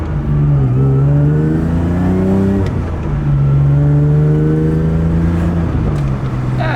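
An old, cheap BMW's engine runs close and loud, idling with a droning hum and climbing twice in rising revs, with a brief dip between, and no voices over it.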